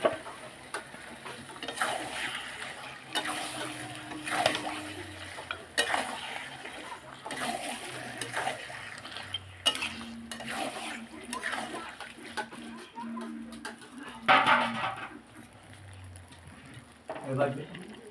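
Marinated mutton is stirred in a pan, making scraping, wet shuffling and soft sizzling in uneven bursts while a person talks over it.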